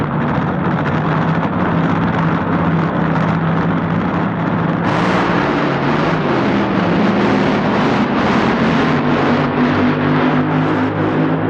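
Vintage 1975 drag racing dragsters launch in the final at Ontario Motor Speedway, a loud, continuous engine roar that swells and rises in pitch partway through, heard from a distance with crowd-like wash and no talk.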